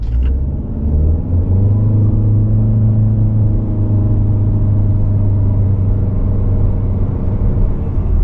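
A 2024 Chevrolet Malibu LT accelerates from inside the cabin, its engine droning in a steady, fairly loud hum that climbs gradually in pitch as the car gains speed, with no talking.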